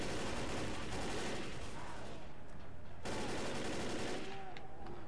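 Rapid gunfire from Left 4 Dead fills the scene in dense, continuous bursts, loud and close, with a brief break around the middle before the shooting resumes.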